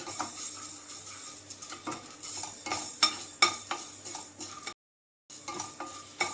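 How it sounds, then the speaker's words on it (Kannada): Fenugreek seeds are dry-roasted in a pan without oil over a low flame and stirred with a spoon, making soft, quiet scraping and rattling with a brief silent pause. "ಏನೂ ಹಾಕೋತಾ ಇಲ್ಲ, ಅದರಲ್ಲಿ ಎಣ್ಣೆ ಇಲ್ಲ, ಬರೀ ಮೆಂತ್ಯ ಡ್ರೈ ರೋಸ್ಟ್ ಮಾಡ್ಕೊತಾ ಇದ್ದೀನಿ."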